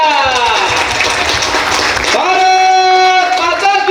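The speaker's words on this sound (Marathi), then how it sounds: "टाळ्या!" Crowd applause at a village Republic Day flag-hoisting as the woman sarpanch pulls the flag rope: dense, loud clapping for about two seconds, then giving way to a sustained, tonal group voice.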